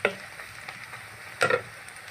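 Chicken masala frying in a pan with Kashmiri chili powder, a quiet sizzle broken by two sharp bursts of stirring and scraping, close with no voices.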